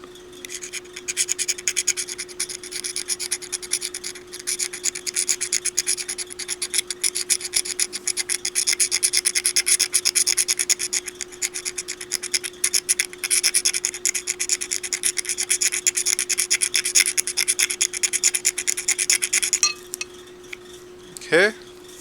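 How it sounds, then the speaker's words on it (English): Steady, close rasping scuff of a surface being sanded by hand for a custom battery adapter plug, continuous for about twenty seconds with a constant hum underneath, then stopping with a brief squeak. "Let me just scuff real good."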